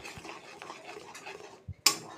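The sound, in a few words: stirring powdered sugar into a mixture in a bowl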